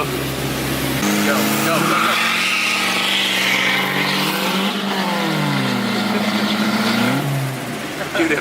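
A turbo Honda Civic's engine revs hard with the wheels spinning, its pitch climbing and sliding in long sweeps, loud and close, with voices talking over it.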